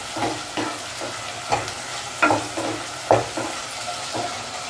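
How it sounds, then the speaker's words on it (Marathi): Tomatoes sauté in a pan for chicken keema, with a soft continuous sizzle broken by repeated scraping stirs of a spoon, close and fairly quiet. "टोमॅटोसुद्धा अगदी 2 मिनिट परतणार आहे"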